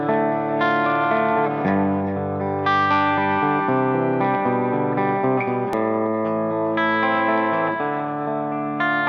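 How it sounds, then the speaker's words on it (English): Budget Les Paul–style electric guitar, Epiphone Les Paul Standard or Vintage V100, played through an amp on a clean tone with chorus and echo effects, ringing chords and picked notes that sustain and shimmer, with no talking. "starting with a really nice, clean sound"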